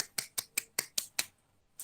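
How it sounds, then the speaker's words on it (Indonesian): Small class applauding a student during a microteaching lesson, about seven distinct, crisp claps in a steady rhythm, close and fairly quiet, with a short pause before one last clap. "Feti minta tepuk tangan buat Feti"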